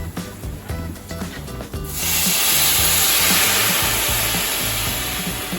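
Vegetable stock poured into risotto rice in a hot pan, bursting into a loud, steady broadband hiss that starts abruptly and holds for several seconds over quieter earlier stirring.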